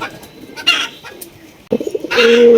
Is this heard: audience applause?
no